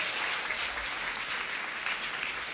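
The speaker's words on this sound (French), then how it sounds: "On peut les applaudir plus fort que ça." A church congregation claps steadily and warmly after a worship song, a dense, even wash of applause from a large crowd with no pauses.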